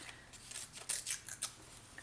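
Scissors snip through scrapbooking paper to trim its height, a quick run of sharp, close cuts in an irregular rhythm with no talk.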